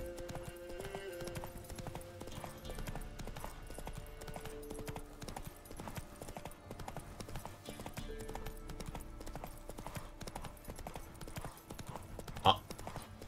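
Steady clip-clop of horse hooves trotting at an even pace in The Witcher 3, mixed with game ambience and music, with a short sharp sound near the end.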